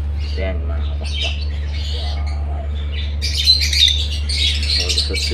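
Newly hatched chicks squawking and chirping in a nest during the hot season, a steady low hum underneath, with the calls growing busier and louder toward the end.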